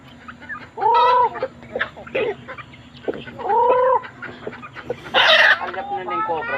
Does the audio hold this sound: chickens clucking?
yes